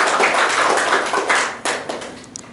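Audience applause at a university teaching session in Indonesia, a steady burst of clapping from a room of people lasting a couple of seconds and tapering toward the end.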